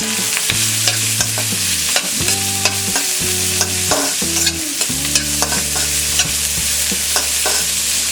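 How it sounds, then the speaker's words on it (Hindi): Curry leaves and green chilies fry on a medium flame, a steady close sizzle under repeated stirring and scraping in the pan, with a low musical tone running underneath and no talking. "और इसे मीडियम फ्लेम में फ्राई करेंगे।"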